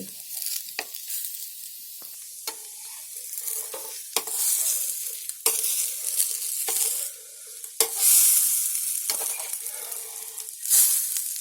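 Rice flour batter is stirred and scraped in a pan with a thick wooden spatula. Repeated sharp scrapes sound close over a frying sizzle.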